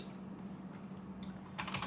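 Keys tapped on a computer keyboard while entering a Linux disk command, soft close clicks under a faint steady hum, ending in a quick burst of several keystrokes.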